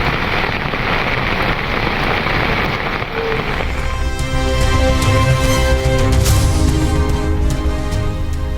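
Heavy monsoon rain pours down during flooding in Uttarakhand, a loud, steady broadband hiss that fills the whole stretch; a low rumble and tonal background come in partway through, with no speech.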